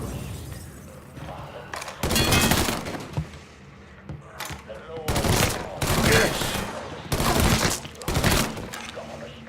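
Loud bursts of video game gunfire from Mafia III, several rapid automatic volleys fired in separate rounds with short pauses between them, with shattering impacts and a voice shouting over the shooting.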